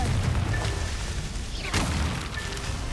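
Confringo explosion spell cast in Hogwarts Legacy: a short rushing whoosh builds into a single sharp, bright blast midway through, over a steady rumble of game ambience.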